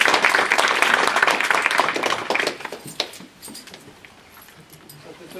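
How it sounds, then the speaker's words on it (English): A round of applause from the audience at a public data wrangling and visualization talk, dense and loud at first, then thinning out into scattered claps and fading to quiet by the end. "So I don't know if we do a round of applause."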